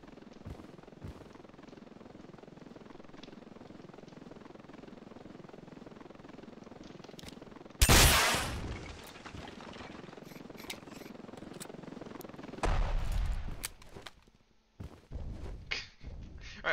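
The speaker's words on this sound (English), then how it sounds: "The sheer amount of planes flying over." Aircraft drone overhead during a large battle in the game Ravenfield, a continuous engine rumble broken by sudden loud blasts around eight and thirteen seconds before settling again.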